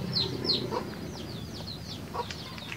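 Chickens cluck and chirp in a coop, a few brief calls rising over a steady, moderately loud barnyard background with no talking.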